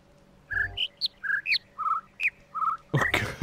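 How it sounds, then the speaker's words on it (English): Birds in an outdoor setting give a quick run of bright, separate chirps and short whistled calls at close range, with no talking, ending in a brief rustling noise. "Oh my goodness, these birds are killing me here."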